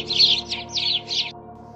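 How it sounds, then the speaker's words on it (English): A sparrow chirps four quick, bright notes in a rapid series, close and clear, then falls silent. "Sparrow"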